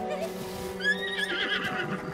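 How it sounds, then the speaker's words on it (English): A horse in Zelda: Tears of the Kingdom gives a single bright, whinnying neigh that rises and wavers over low game ambience, fairly close, with faint hoof clops. "Yes, it's a horse."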